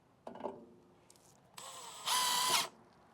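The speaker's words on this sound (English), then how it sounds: "Now I'll just take one of my screws that comes in the kit and get this screwed down." A power drill drives a kit screw to fasten Lippert SolidStep RV steps on a 2021 Grand Design trailer, with a short whir, a pause, then a longer steady whine that rises to a loud sustained burst and stops.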